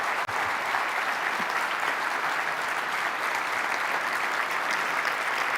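Audience applause after a talk on a ballroom stage, a dense, steady wash of many hands clapping at constant loudness throughout, with no voices standing out.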